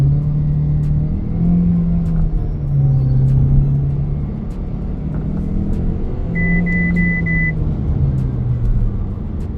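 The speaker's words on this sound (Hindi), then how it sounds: "फिलहाल इस गाड़ी का 0 to 100 करके चेक करते हैं" An MG HS plug-in hybrid SUV, a 2025 model, accelerates hard from a standstill to 100 km/h with traction control on, its engine rising and dropping through several gear changes in a loud, continuous drone heard from inside the cabin.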